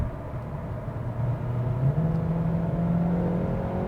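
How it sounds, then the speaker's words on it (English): Engine of a 2022 Kia K5 hybrid in sports mode, driving at night, a steady low hum that swells into a gentle rising rev, close and continuous with no talking. "let me just put the car into sports mode one more time"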